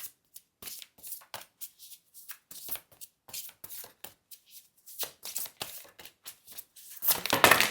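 Cards are shuffled and drawn from a tarot-style deck, with quick crisp riffles and snaps in irregular bursts close to the microphone, ending in a louder flurry of shuffling.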